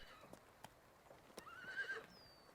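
Horses on a hillside in Sandu County before a race, one giving a clear, fairly near whinny after a few sharp hoof clops, faint overall with a quiet background.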